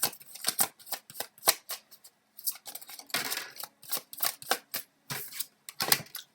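Tarot cards being shuffled for a reading, with repeated crisp riffling bursts and flicks separated by short pauses, close and clear with no talking.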